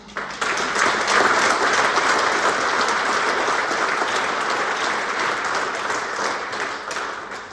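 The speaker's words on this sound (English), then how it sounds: "I would ask for your applause for those staff right now." An audience at a rural county community evening forum applauds staff, steady sustained clapping that starts abruptly and holds loud and even for several seconds before easing off.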